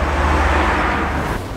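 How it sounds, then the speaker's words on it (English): Steady road traffic rumbles close by on a sunny day, a continuous wash of passing cars and heavier vehicles that eases slightly near the end, with no voices. "But you can hear the traffic, can't you?"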